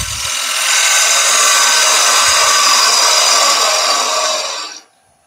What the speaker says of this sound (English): So small bowl gouge, 6 mil, quarter inch. And we're just going to remove that foot.